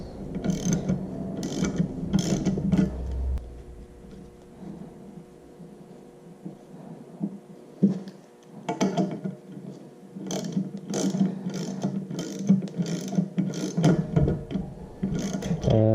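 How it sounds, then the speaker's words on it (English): A ratchet tightens a nut on a junkyard 5.3 LS cylinder head, giving bursts of rapid, close clicking separated by pauses, with metallic clinks and handling noise in between. "Okay, tighten the nut down."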